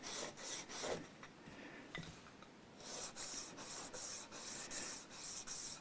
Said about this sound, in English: as always with sanding the bottom of a nut, we want it to remain perpendicular to the front and back's wall